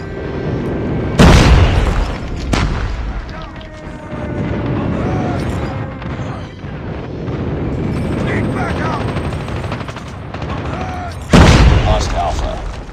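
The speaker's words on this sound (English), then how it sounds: "Friendly airstrike incoming." Airstrike explosions in a capture-the-point video game, two heavy booms several seconds apart over continuous game noise, rumbling battle sounds and announcer voice callouts.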